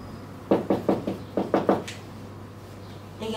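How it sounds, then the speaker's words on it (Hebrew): Knuckles rap on the door of a house in two groups of three, crisp moderately close knocks with a short pause between sets, then a faint extra tap over a low steady hum, no voices. "אני אדפוק פה בדלת ונראה אם הוא יענה."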